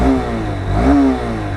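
A 2026 Honda Hornet 2.0 motorcycle engine idles close by, then rises in one short rev and drops back, with steady harmonic engine tones throughout.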